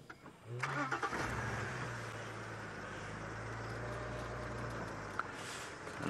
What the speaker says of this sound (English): going to start the car.